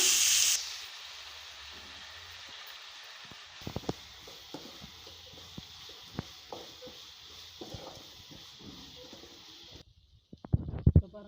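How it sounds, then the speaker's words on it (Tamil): Tomatoes sautéing with salt in a pan for a roadside-style kurma, a steady sizzling hiss running throughout with scattered clinks and stirring knocks of a utensil against the pan. "இதுக்கு வந்து கொஞ்சமாக உப்பு சேர்த்து நல்லா வதக்கிக்கலாம்"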